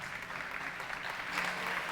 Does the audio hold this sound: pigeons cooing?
no